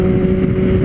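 A Kawasaki Ninja ZX-10R motorcycle engine holds a loud, steady droning tone while riding, with wind buffeting the microphone.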